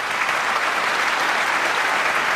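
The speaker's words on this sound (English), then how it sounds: "that's why he's got such a good round of applause" A snooker audience at the 2008 Masters applauds a shot, a steady, dense round of clapping held at an even loudness from start to finish.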